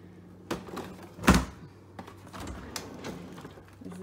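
Refrigerator drawers in a small Tokyo apartment kitchen being handled, with a few plastic thunks and clicks, one sharper knock in the middle and lighter rattles around it.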